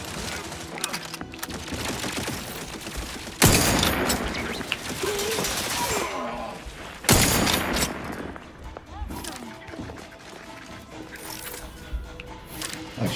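Turret gunfire in The Outer Worlds video game, dense bursts of rattling shots and blasts layered with game effects and heavy impacts, loud and continuous, with a player talking over parts of it.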